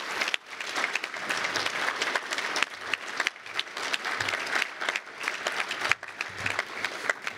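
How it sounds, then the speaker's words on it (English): Sustained audience applause fills the hall at a Boeing gift announcement celebration for a college of engineering and architecture, a dense, steady wash of many clapping hands with brief dips, loud and continuous throughout. "A big round of applause, please, on that."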